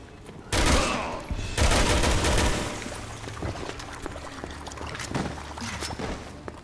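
Loud bursts of gunfire in Resident Evil 6, two heavy broadband volleys followed by a long stretch of sustained shooting and clatter, close and dense, with no speech over it.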